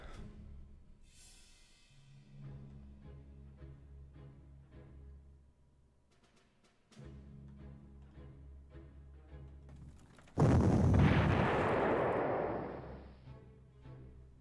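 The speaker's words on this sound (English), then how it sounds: "there's another big gun in here firing out of Metz." Big gun artillery firing in the World War II strategy game Panzer Corps, heard as a sudden loud, broad boom-like blast that rumbles and fades over a few seconds, following quieter game tones and effects.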